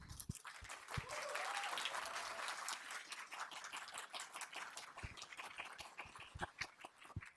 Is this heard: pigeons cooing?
no